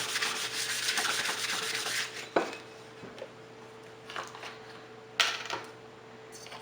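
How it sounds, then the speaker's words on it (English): Sandpaper roughing up the surface of a ceramic tile with light rubbing strokes, close and soft, in a couple of bursts separated by quieter gaps, no talking. "you're just going to kind of rough it up with your sandpaper"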